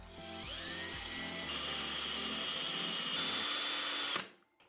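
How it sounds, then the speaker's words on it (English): A screwdriver, apparently power-driven, bores a small hole in a plastic bottle lid with a steady, close whirring drill tone that holds for about four seconds before cutting off. "I'm going to grab just my screwdriver here, and I'm going to put a teeny tiny hole in the top of this"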